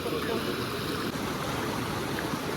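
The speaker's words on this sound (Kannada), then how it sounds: "ಒಂದು ಸಣ್ಣ ನೀರಿನ ಹರಿವು ಉಂಟು ಒಳ್ಳೆ ಫೋರ್ಸ್ ಉಂಟು" Steady rushing water fills the clip, a constant broadband wash like a small, forceful stream flowing nearby, with no talking over it.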